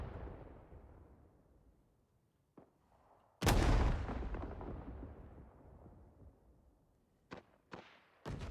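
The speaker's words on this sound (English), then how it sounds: "some nice grenades there." Grenade blasts in the Vietnam War shooter Rising Storm 2: Vietnam, with one large booming explosion and a long rumbling decay, earlier fading blasts, and a few sharp distant gunshots afterward.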